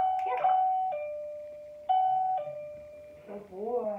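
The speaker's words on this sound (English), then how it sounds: "Ring the bell." A trained dog presses a doorbell that chimes twice in clear ding-dong tones a second apart, each ringing out and fading, followed by a person's brief voice afterward.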